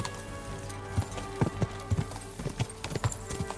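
Rapid hoofbeats of a galloping horse in the video game Kingdom Come: Deliverance II thud in an uneven rhythm, fairly close, with a steady low hum and faint background tones underneath.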